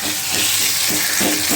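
Onions sizzle steadily in a pan on the stove, a continuous close, loud hiss of frying with faint stirring scrapes throughout, no voices.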